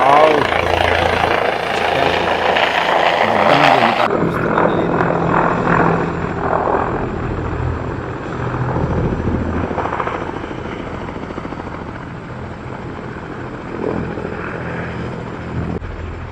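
A helicopter comes in to land at the Medaram Jathara 2026 festival, its loud, close rotor thrum and turbine whine steady, then easing slightly after a few seconds and continuing to the end, with a crowd and voices talking underneath.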